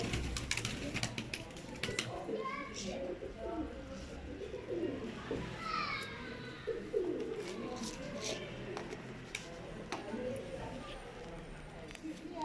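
Pigeons coo repeatedly inside a loft, soft throaty calls rising and falling over a busy background of wing flutters and shuffling, with people talking quietly nearby.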